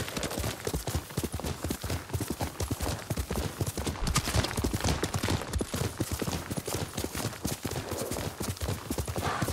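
Horse hooves clip-clop steadily in Ghost of Tsushima, a dense, fast and fairly loud galloping rhythm that runs throughout, layered over outdoor game ambience.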